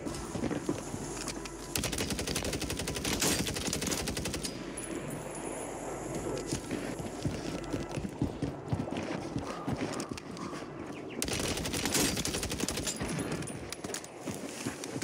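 Dense, continuous gunfire and game action in Call of Duty: Warzone, loud and busy throughout with rapid clattering shots and little pause.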